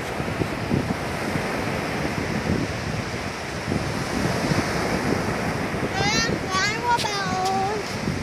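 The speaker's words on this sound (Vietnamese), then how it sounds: "Sóng biển Vũng Tàu rất là đẹp." Continuous crashing surf at Vũng Tàu beach in front of a five-star hotel, a dense near roar of breaking sea waves with wind noise throughout, and people talking faintly over it toward the end.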